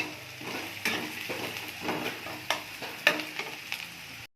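Garlic added to onions frying in a pan, a soft steady sizzle punctuated by rhythmic spatula scrapes and knocks against the metal.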